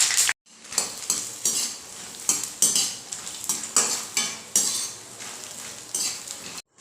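Makhana (fox nuts) roast in desi ghee in a pan over a medium flame while a spoon stirs them, producing loud, close, rhythmic scraping and clattering strokes with a light sizzle underneath, after a brief pause at the start.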